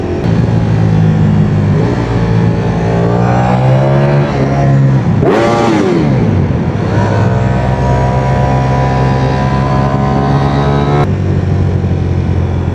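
A Ducati Streetfighter V4 motorcycle engine while riding on the street, roaring loudly and close with a steady mid-pitched drone, a sharp rev swell midway, then settling into a sustained smooth pull, without any talking.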